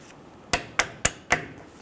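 A hammer strikes a punch to drive out the front brake caliper pins on a 2005-2015 Toyota Tacoma: four sharp, ringing metallic blows in steady rhythm, close and clear.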